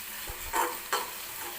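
Bottle gourd halwa with a little food colouring is stirred in a pan, two soft scraping strokes sounding close over a faint steady background hiss.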